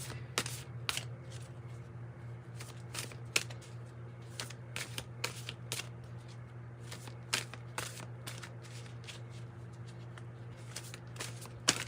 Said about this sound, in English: Let's get another card.